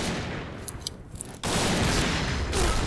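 Sniper rifle gunfire in the video game Point Blank: a burst of shots sits faintly under game ambience, then a sudden louder wash of gunfire and noise takes over for the rest, with no talk.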